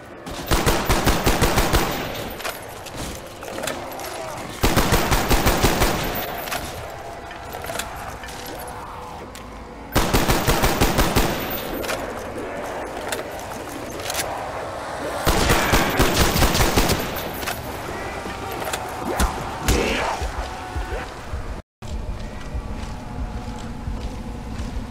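Lever-action gun fire in Call of Duty Zombies on the Shangri-La map, loud repeated bursts of shots in several clusters with game sounds between them.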